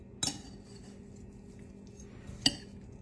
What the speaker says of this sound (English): we're going to just kind of stir that all up